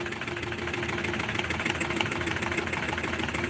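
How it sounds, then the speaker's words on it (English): An embroidery machine stitching cursive lettering at a lower RPM in a retail store, a steady rapid mechanical chattering hum with fast repetitive needle pulses, close and continuous. "For something like this, when it's cursive, I like to run it at a lower RPM, just because it stitches a little bit cleaner."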